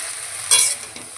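Vegetables frying in a pan, with a steady low sizzle and a brief louder burst of hiss and stirring in the middle of the short stretch.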